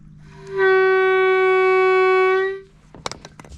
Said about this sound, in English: I have a boat whistle.